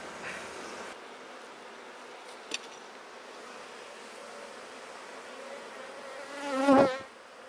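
A healthy honeybee colony hums steadily in an open beehive in early July, a close continuous buzz with one louder bee passing near toward the end.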